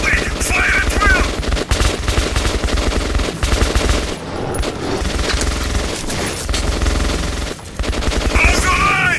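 Sustained automatic gunfire from the Metro 2033 video game, loud, dense rapid bursts of shots that run almost continuously, with a few brief pauses between volleys.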